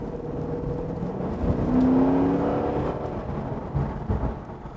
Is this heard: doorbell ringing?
no